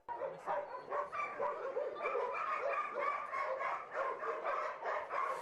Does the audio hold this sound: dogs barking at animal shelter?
yes